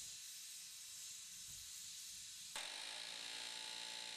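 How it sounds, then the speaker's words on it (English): Rivets being heated for riveting a mudguard on a 1940 Fordson N tractor, a continuous loud hiss like a torch or forge that jumps abruptly to a harsher, brighter roar partway through. "The rivets are being heated."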